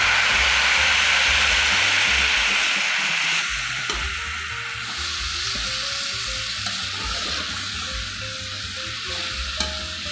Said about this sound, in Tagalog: maglalagay lang ako ng 1 cup of butter.